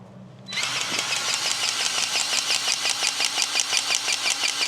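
Old Bobcat trencher engine starts and runs with its digging chain turning, giving a steady loud mechanical drone with a rapid, regular rhythmic clatter throughout.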